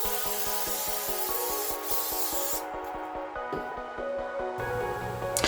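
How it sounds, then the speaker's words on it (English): A steady hiss of Pam cooking spray onto a baking tray, continuous and close, broken by a couple of short pauses, with a faint musical tone running underneath. "spray down a baking tray with some Pam. Make sure to really generously spray"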